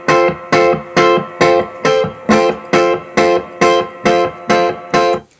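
A clean electric guitar strikes about ten evenly spaced chords, each ringing out with a wide 1950s-style reverb tail. The chords are loud and close, with no other sounds, on the bridge of a rock track.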